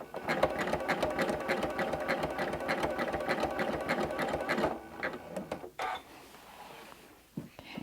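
A sewing machine stitches couching yarn along the edge of an appliqué shape, running in a steady rapid rhythm up close for several seconds before stopping, with a few handling clicks and knocks after.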